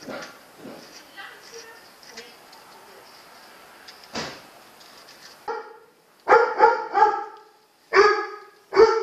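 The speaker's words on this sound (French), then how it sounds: "Il fait son boulot de chien." A dog named Django barks in short, loud bursts near the end, after softer sounds of movement and muffled activity at the start, with people talking around him.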